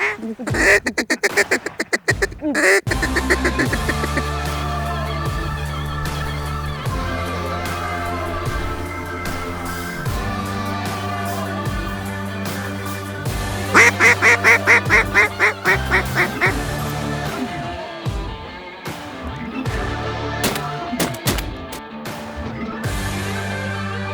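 Ducks quack over a music bed on a waterfowl hunting television show, a run of loud repeated quacks in the middle, the calls clear and close among steady tones.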